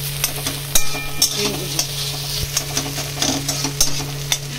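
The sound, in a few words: cinnamon and cardamom frying in oil for fried rice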